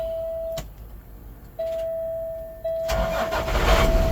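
A warning chime tone sounds, then the diesel engine of a 2014 Peterbilt 348 flatbed truck cranks and catches, rumbling into a steady idle, close and fairly loud.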